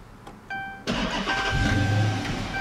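2013 Dodge Charger police car with a 5.7 HEMI V8 push-starting: a brief dash chime, then the engine cranks and catches into a loud, steady idle rumble close by.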